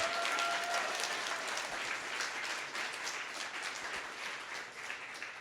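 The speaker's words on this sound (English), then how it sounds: "huge round of applause to GitHub, Kelsey and Drew for hosting" Audience applause for the hosts at a Papers We Love San Francisco meetup, dense steady clapping from a room of people that fades slightly toward the end, with no voices over it.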